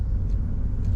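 Deep, steady road rumble of traffic while driving through the streets of Taipa, Macau at twilight, a constant low engine and tire drone heard from inside a vehicle.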